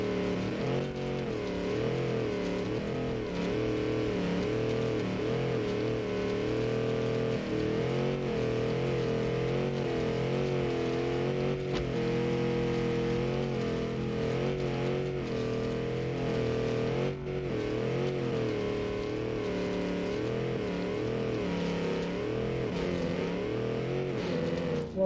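A Mopar car engine revs loudly and continuously, a steady deep drone with shifting pitch that fills the whole stretch without pause.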